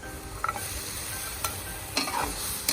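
Meat chunks with bone, tomatoes and onion fry in a pot as a spoon stirs them, a steady sizzle broken by several scraping, clinking strokes, close up and with no talk.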